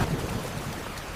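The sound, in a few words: heavy rain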